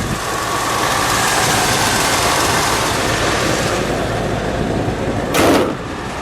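A 1967 Buick Riviera's engine idles with a steady, loud, broadband rumble close by, ending in a brief sharp clunk.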